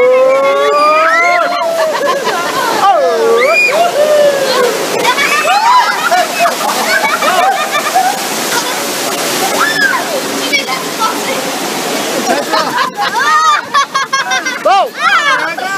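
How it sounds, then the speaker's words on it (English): Rushing water splashes loudly and steadily throughout the Grizzly River Run themed rapids ride, with riders shouting, laughing and talking over the roar. "One of the best themed rapids rides I have ever been on."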